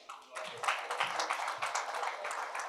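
Audience applause at an HR awards ceremony, a dense wash of clapping from a large crowd that swells in and holds steady, fairly close and continuous.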